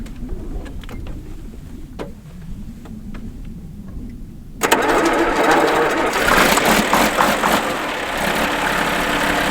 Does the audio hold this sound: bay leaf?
no